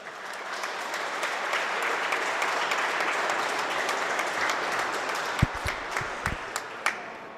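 A gym crowd applauds senior wrestlers at a high school senior night meet, sustained, even clapping from many hands that tapers off, leaving a few scattered louder claps and thumps near the end.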